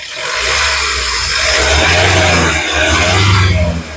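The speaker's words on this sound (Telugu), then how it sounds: "ఇంజన్ యొక్క నాయిస్ చాలా సైలెంట్ గా అయితే ఉంది ఎక్సలైటర్ ఒకసారి" A 2015 Mahindra XUV500 W8 engine revs up when the accelerator is pressed, rising to a loud roar, easing briefly, then revving again up close.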